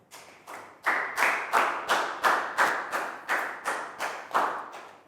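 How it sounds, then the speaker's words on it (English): In a primary school classroom, a small group claps in rhythm. There are about eleven evenly spaced, crisp bursts that are fairly close, with no talking over them. "Big round of applause for Net."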